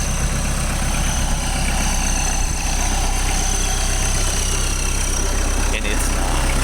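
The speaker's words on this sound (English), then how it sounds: "My neighbor loaned me his Kubota." Kubota tractor engine idling steadily close by, a continuous low rumble with a constant level and no breaks, heard alone for the whole stretch.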